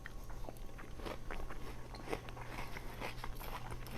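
Crunchy Waldorf salad of sweet apple, grape, celery, raisin and walnuts is bitten and chewed, giving soft, quiet, irregular crunching and munching that continues steadily from start to finish.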